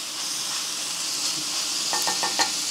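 Onions caramelizing in a pan give off a steady, close sizzle with soft stirring scrapes, and a few quick clicks of a spoon come near the end. No one speaks.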